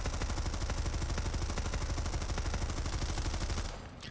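An MSWR machine gun in Planetside 2 fires a long, unbroken 50-round burst, rapid even shots hammering loud and close before cutting off abruptly near the end.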